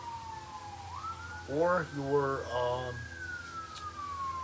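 Wailing emergency vehicle siren sweeping slowly up and down outside, moderately distant, with a person talking briefly over it.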